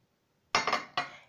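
Spoon clinking and scraping in a dish while mixing a meatless patty mixture of grated raw potato, oat flakes, onion, garlic, pepper and salt, with a few close, distinct bursts after a short silence.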